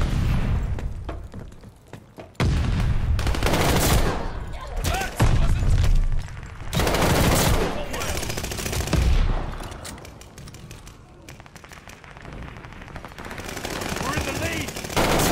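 Video game gunfire: sustained rapid machine-gun bursts and single shots with occasional booms and thuds, loud and dense throughout, with players' voices talking over the shooting.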